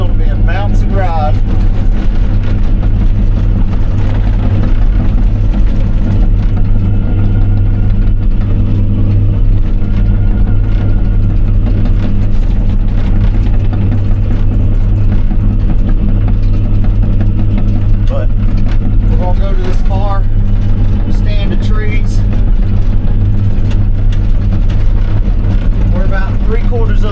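A John Deere 250G skid steer engine runs loud and steady while pulling trees, with a constant low rumble filling the whole stretch and a voice talking over it.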